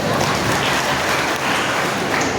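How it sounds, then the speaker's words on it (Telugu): Steady applause from a crowd at a public Hindu Sena gathering in Nandyal, a dense even patter of many hands clapping throughout, fairly loud and continuous with no talk over it. "అయితే చప్పట్లు నేనే పడతాను"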